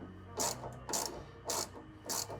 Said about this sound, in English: we're going to tighten down that bolt while at the same time keeping that, that spacer nut secure with our 1/2 inch